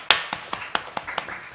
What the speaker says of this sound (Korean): 이현숙 과장님 하시니까 박수를 치시네요.